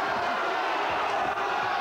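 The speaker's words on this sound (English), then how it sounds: "crowd's loving it, and rightly so." The crowd at a heavyweight boxing match roars in a steady, loud wash of cheering and shouting that fills the whole brief moment, with no break in the noise.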